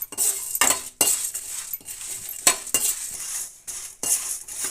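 Coriander seeds and four to five dried red chillies dry roasting in a pan over low heat, with repeated clinks and scrapes of a spoon against the pan in an irregular rhythm, close and moderately loud, no talking.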